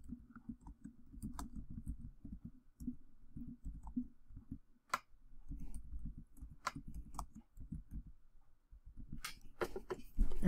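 Someone types on a computer keyboard, with close, quiet clusters of key clicks in irregular bursts separated by short pauses.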